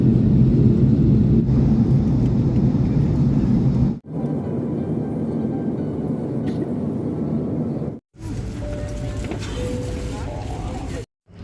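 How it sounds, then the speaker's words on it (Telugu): Steady broadband roar of an airliner cabin in flight from Fiji to San Francisco near landing, a constant loud low drone broken by two brief dropouts, with faint tones near the end. "ఇంకా సేపట్లో అయితే ల్యాండ్ అయిపోద్దండి ఫ్లైట్"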